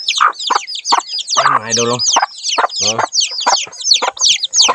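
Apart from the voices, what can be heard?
chicken clucking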